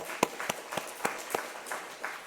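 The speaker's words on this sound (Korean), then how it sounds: "박수 한번 쳐주세요." A church congregation clapping together, a short burst of rhythmic applause with distinct claps about every quarter second, moderately loud and fairly close.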